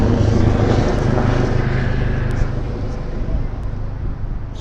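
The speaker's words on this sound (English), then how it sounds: "So we've got a helicopter coming in." A helicopter approaching over a baseball field during a West Virginia Wild game, its steady rotor and engine roar broad and fairly loud across the whole stretch, easing off slightly toward the end.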